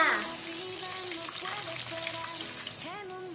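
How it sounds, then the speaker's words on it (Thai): Oil bubbling and sizzling steadily as tilapia deep-fries until crisp, a continuous crackling hiss close by, with faint background noise. "ตอนนี้ปลาของเราก็ทอดจนสุกเรื่องกรอบดีแล้วนะจ๊ะ"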